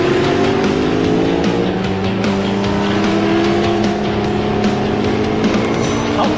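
Racing cars lap a circuit and set up an overtake into a corner, their engines a loud, continuous high-revving drone with layered whining tones that shift slightly in pitch throughout.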